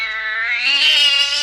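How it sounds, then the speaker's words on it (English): A cat lets out a loud, wild yowling cry, a single sustained caterwaul rising in pitch and intensity, close and alone with no voices. "the little cat sprang at me with a wild yell"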